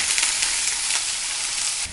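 Sliced onions sizzle steadily in a hot pan for a Hariyali chicken biryani, a dense, even hiss that stays loud throughout with a brief dip near the end.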